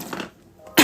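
A single short cough from a pregnant woman, close and fairly loud, with a brief sharp burst at the end.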